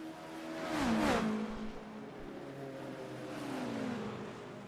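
IMSA race cars roar past on the track at Indianapolis Motor Speedway, one loud pass early on followed by a sustained engine drone that fades and builds again in the distance.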